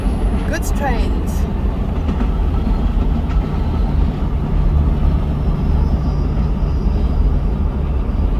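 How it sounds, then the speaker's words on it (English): Goods train rolling past in Namibia near the South African border, a steady low rumble and rhythmic rail clatter filling the whole stretch, with a faint vehicle or engine drone alongside. "Goods trains."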